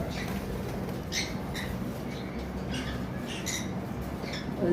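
A pair of lutino red-eye opaline cage birds gives short, high chirps and squawks in scattered bursts, fairly faint over a steady background hum.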